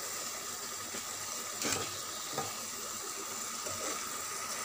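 Raw plantain slices roast in ordinary cooking oil with chili powder, giving a steady, moderately quiet frying hiss with a couple of soft clinks partway through.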